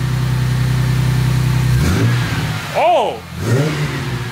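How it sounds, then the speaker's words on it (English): A Ford AU Falcon engine, not yet warm, idling with a steady low drone, then given a short rev that rises and falls sharply, followed by a second smaller blip. A person exclaims during the rev. "I'll give it a tiny bit of a rev."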